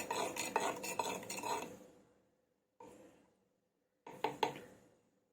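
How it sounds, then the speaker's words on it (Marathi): Milk for curd is stirred with a spoon in a clay pot, with two bursts of rhythmic scraping and clinking close by and a brief scrape between them, separated by silence. "मी चमच्याने ढवळलेलं आहे हे बघा असं चांगलं मिक्स करून घ्यायचं"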